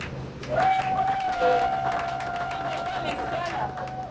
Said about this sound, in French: Est-ce qu'il ne mérite pas d'être applaudi?